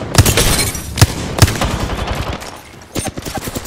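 Rapid bursts of gunfire from Apex Legends Arenas, with sharp loud shots and heavy repeated volleys crackling through the first three seconds, then a brief lull before more scattered shots near the end.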